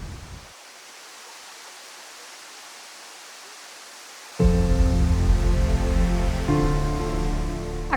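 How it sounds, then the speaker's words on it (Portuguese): Cachoeira do Tabuleiro, the largest waterfall in Minas Gerais, Brazil, gives a soft, steady rushing hiss heard alone for several seconds. Louder music then enters and covers it. "A Cachoeira do Tabuleiro é a maior cachoeira de Minas Gerais e a terceira maior cachoeira do Brasil."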